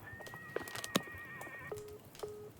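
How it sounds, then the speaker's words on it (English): A horse whinnies from a radio in a video game, a thin broadcast-quality neigh among faint clicks and steady electronic tones, with no speech alongside. "I heard a horse."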